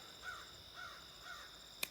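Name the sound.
crow cawing outdoors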